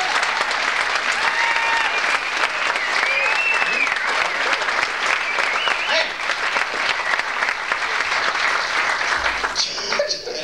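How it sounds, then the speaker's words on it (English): A stand-up comedy audience applauds, dense sustained clapping from a full crowd that carries steadily for about ten seconds before tapering at the end. "Give a nice big round of applause for the entire show"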